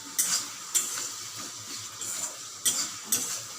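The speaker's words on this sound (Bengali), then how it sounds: "এই সমস্তগুলো দিয়ে আমি এটাকে এবার নাড়াচাড়া করতে থাকবো" Onion and tomato being stirred in a cooking pan, with a soft wet sizzle underneath and several sharp scraping clinks of a spoon against the pan at uneven intervals, close up and with no talking.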